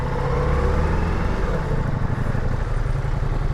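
A Ducati Multistrada V4 S engine hums steadily and close while riding in the city, a low continuous drone with no pauses, heard from the rider's position.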